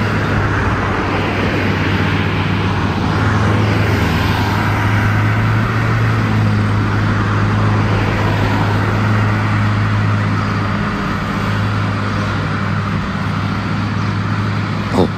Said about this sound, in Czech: A provoz tady je hrozný.